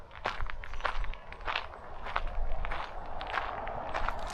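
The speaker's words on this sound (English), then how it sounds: "You could probably hear me walking on these stones." Footsteps crunching on stones outdoors among autumn trees, a steady walking rhythm of close, gritty steps continuing throughout with no speech.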